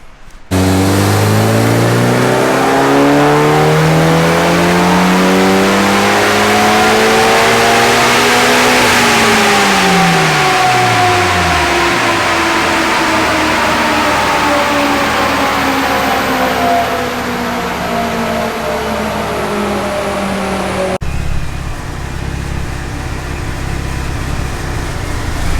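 A turbocharged Mitsubishi EVO 9 with a 2.3-litre stroker engine revs hard and loud up close, its pitch climbing steeply, holding, then dropping before rising again in a sustained high-rpm pull with no talk.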